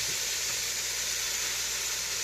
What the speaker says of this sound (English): You hear that beautiful sizzle?